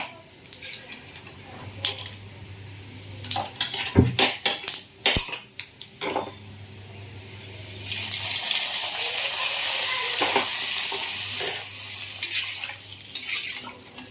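Fried onion and garlic tipped into a hot tempering, bursting into a loud, steady sizzle that holds for several seconds, with metal utensils clattering and scraping against the pan before and around it.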